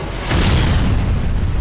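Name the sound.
explosions hitting an army, like firecrackers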